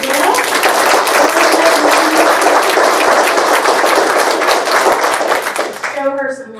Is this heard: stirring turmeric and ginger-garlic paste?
no